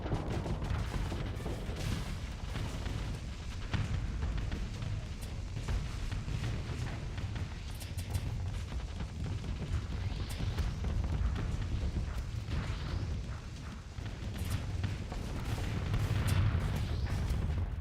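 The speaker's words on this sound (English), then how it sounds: "Was that a shotgun?" Heavy weapons fire from a space combat game battle, a dense continuous barrage of booming shots and blasts throughout, with no clear talk over it.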